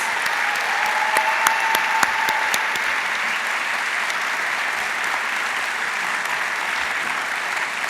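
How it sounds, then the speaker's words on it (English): A graduation audience at the HEC Paris ceremony applauds in a steady, dense wash of clapping that stays loud and even throughout, with a few sharper claps standing out near the start. "Please, the graduates, join me in applauding your support."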